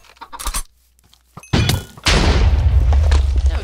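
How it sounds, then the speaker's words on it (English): A smoke grenade from a Minecraft shooter mod: a hard, loud thunk as it lands, then a sustained broad hiss of billowing smoke that carries to the end after a brief settle. "So this is what the smoke grenade does"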